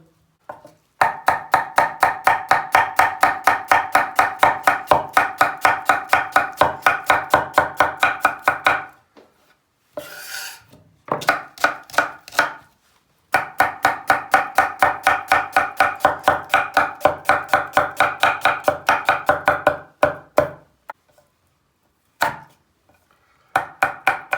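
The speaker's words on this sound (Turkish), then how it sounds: "Şimdi sıra geldi soğanımızı doğramaya." Rapid, rhythmic knife chops on a cutting board as onion is diced, long steady runs of close, sharp strikes broken by short pauses.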